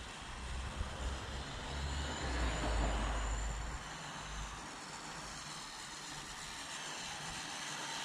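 A WPL D12 1/10 RC truck runs flat out on its high-speed setting, a steady whirring motor roar with gravelly tire rumble that swells for a few seconds, then eases to a fainter, constant hum.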